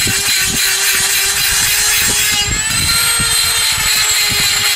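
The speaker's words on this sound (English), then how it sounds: "Handy dandy Dremel tool." A handheld Dremel rotary tool grinds and cleans the hub surface of a 2009 Chevy Cobalt during wheel bearing replacement, a loud, steady high-pitched whine with gritty scraping running continuously throughout.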